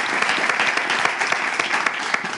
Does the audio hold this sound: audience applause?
yes